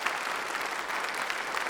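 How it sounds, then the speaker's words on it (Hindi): Studio audience claps to welcome a guest onto a talk show: a steady burst of applause, moderately loud and unbroken, with no speech over it. "सो जोरदार तालियों के संग स्वागत किया जाए"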